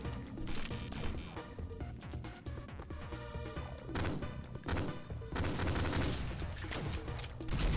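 Enemy gunfire in the retro-style shooter Ion Fury, a loud, continuous volley of shots and crashing impacts that fills the whole stretch, close and busy with little pause.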